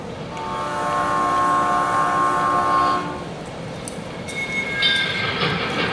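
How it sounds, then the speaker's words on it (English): The 5:10 train for Boston passes close by, a loud sustained horn-like tone for about three seconds over a steady rail rumble, then rolling wagon noise with faint metallic clinks. No one speaks. "There's the 5:10 train for Boston."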